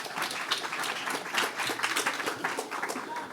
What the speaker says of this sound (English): thank you all for the advance applause